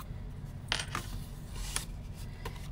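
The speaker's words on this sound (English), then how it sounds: "get my paper snips out here." Metal paper snips clink and click a few times as they are picked up and handled at a crafting table, sharp brief taps with quiet gaps.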